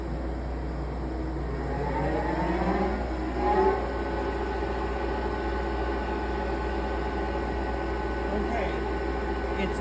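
A manual pipe-threading lathe with a large spindle bore runs at 140 RPM, giving a steady low mechanical hum with faint whine and a brief louder rise partway through.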